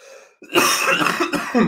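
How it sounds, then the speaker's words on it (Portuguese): A single harsh, heavy cough with a rough throat-clearing quality, close and loud, following a brief silence. "tosse hoje está pesada"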